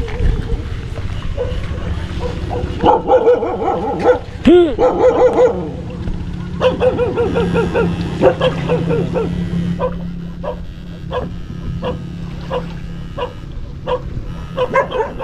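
A dog barks and yips repeatedly in short bursts, fairly close, with a few whimpering notes and faint voices in the background.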